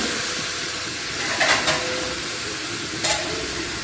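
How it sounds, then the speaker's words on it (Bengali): Water goes into a pan of potato chorchori on the stove, giving a steady hiss of steam and sizzle with two brief louder splashes, at about one and a half and three seconds. "এবার জল দিয়ে দিচ্ছি।"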